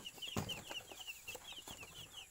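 Ten newly hatched baby chicks on a farm give a rapid stream of thin high peeping chirps, close and continuous, with a few soft scuffs and rustles beneath.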